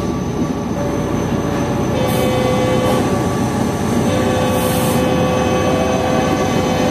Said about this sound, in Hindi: ये प्लेटफॉर्म नंबर 1 पर एक ट्रेन आ रही है